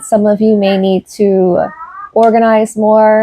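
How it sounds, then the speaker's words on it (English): A pet cat meows repeatedly in the room, loud harmonic cries in several bursts with short pauses, mixed with a person talking over them. "Sorry if you hear my cat in the background."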